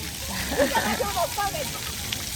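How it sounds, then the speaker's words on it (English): Water sprays and splashes at an outdoor splash pad, a steady wash of spattering droplets with light sloshing, while a voice talks over it up close. "this is a good little splash pad"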